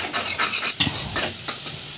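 Onion paste with ginger-garlic paste fries in a pan, a steady close sizzle broken by several scraping stirs of a spoon, with no voices.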